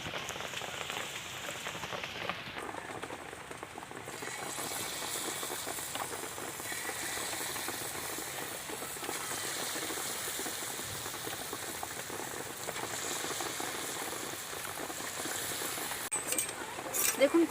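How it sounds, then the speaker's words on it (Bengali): Palm fruit fritters (tal bara) deep-frying in hot oil, with a steady, dense sizzle and crackle close by, loud and unbroken throughout. "ছাঁকা তেলে ভাজবো তালের বড়াটা"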